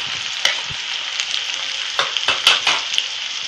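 Onion, garlic and green chili hit hot oil for a Marathi shengoli dish, giving a continuous bright sizzle broken by sharp clicks and scrapes of stirring close by.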